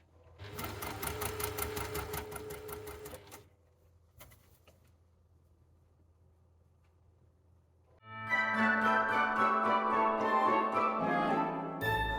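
A sewing machine stitches bias binding around a dress neckline in two loud, fast-whirring runs, split by a quieter pause of several seconds with a faint clunk in it.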